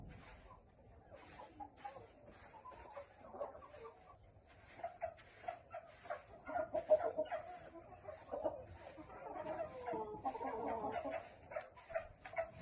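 Chickens in a sand-floored coop that is being cleaned give faint, scattered clucks and short calls over a quiet background, rising in the second half, with no voices.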